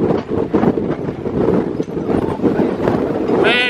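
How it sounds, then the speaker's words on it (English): Strong gusting wind buffets the microphone in a constant low roar, loud and close, with no clear speech. "Man, it's windy."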